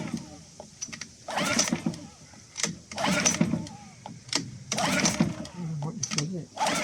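A Suzuki 6HP outboard motor that won't start is pull-started over and over, each rasping tug of the starter cord coming in rhythmic bursts with no engine catching, close up.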